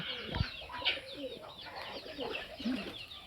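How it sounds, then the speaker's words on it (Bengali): Pigeons kept in a home farm courtyard give soft, low coos, heard faintly at a moderate distance with light background ambience and no talking. "যেখানে দেখতে পাচ্ছি আমার কবুতরগুলো আছে"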